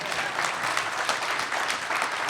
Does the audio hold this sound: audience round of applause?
yes